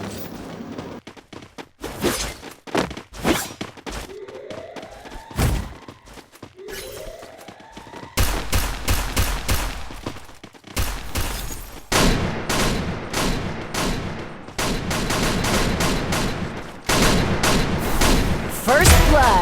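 Gunfire in the Free Fire mobile game, with sharp sniper shots and bursts of rapid automatic fire at close range, some sweeping tonal effects, and dense, loud firing filling the later half.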